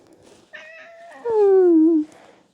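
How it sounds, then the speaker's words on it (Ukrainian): A pet cat gives a close, clear meow that starts with a short call, then rises into a longer drawn-out cry lasting about a second and a half in a quiet room. "Це моя киця Буся, я її дуже-дуже люблю"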